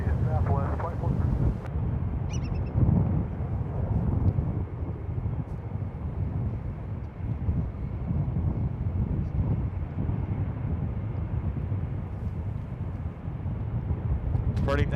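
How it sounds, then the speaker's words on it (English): FedEx Airbus A300-600 departing San Francisco International Airport, a sustained low jet roar with broadband rumble and wind buffeting, steady and fairly loud for the whole stretch. "Departing now is FedEx 1345, headed back to Memphis, an Airbus A300-600."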